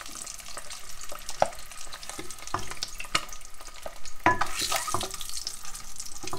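Egg sizzles and fries in a pan in a home kitchen, steady crackling with scattered sharp stirring and scraping clicks, close and moderately loud, no talk.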